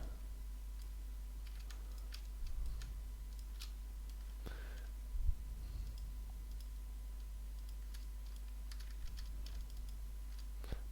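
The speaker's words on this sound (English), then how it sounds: "Just control clicking on these to deselect them." Faint, sparse clicks of a computer mouse during control-clicking to deselect items, scattered irregular ticks over a steady electrical hum with a couple of soft thumps.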